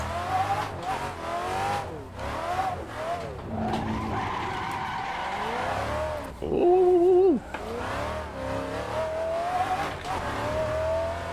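V8 Rocket Bunny widebody Nissan 350Z drift car in a racing game, engine revving hard and rising and falling in pitch while the tires squeal and skid almost continuously, loud and close, with a brief exclamation from a player.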